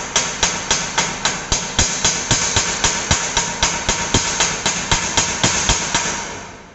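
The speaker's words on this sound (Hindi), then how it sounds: "वेल्डिंग बीड पर हैमर के द्वारा धीरे धीरे चोट देते हैं।" A hammer peens a welding bead in a fitter's workshop with about twenty loud, evenly spaced metallic blows at a quick steady rhythm, close and unaccompanied.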